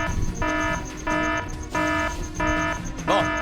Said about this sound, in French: Je capte des alarmes de partout.